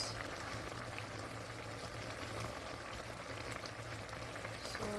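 A sauce of braised Korean pork ribs stew (dwaeji galbijjim) boils on a stove with a steady, continuous bubbling simmer at moderate volume throughout.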